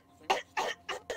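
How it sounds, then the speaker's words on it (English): A person gives three or four short, deliberate coughs in a quiet indoor room to get attention, evenly spaced and fairly soft. "You cough to get people's attention."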